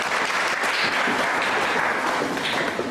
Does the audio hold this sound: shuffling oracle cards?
no